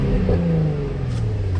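A salvaged Nissan 350Z's engine revs loudly and close by, a steady droning tone that sags slightly and then climbs again, with no talking over it.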